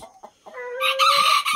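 A rooster crows loudly and close by on a ranch among hens, its long drawn-out call following a few short clucks.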